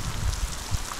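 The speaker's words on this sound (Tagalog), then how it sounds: "lakas ng ulan" Heavy rain falling outdoors, a dense, steady hiss of drops with no gaps and no voices over it.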